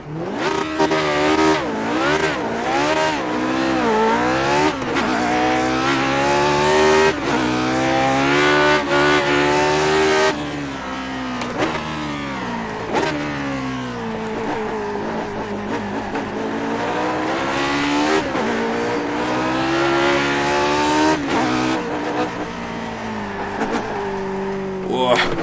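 A Lotus 49 race car in iRacing, its engine revving hard and rising through gears with repeated drops and climbs in pitch, loud and close, with someone talking over it throughout.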